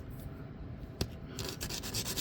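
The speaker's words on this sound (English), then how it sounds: "A little bit of 300 grit sandpaper, probably a bit aggressive for this" A brass piece is rubbed with 300 grit sandpaper, producing a close, continuous gritty scratching with brief bursting strokes, including a sharp scrape partway through.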